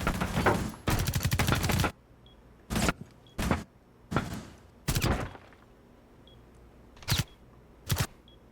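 Gunfire in Rainbow Six Siege comes as a long rapid automatic burst followed by several short separate bursts and single shots, sharp and loud with quiet gaps between.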